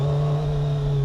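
A 2025 Kawasaki Z900 inline-4 motorcycle pulling up a steep hill, a steady close engine hum with a strong held tone and faint higher whine, unchanging through the brief moment with no talk.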